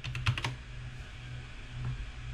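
A few quick keystrokes on a computer keyboard at the start, followed by near silence over a steady low hum with one faint click later on.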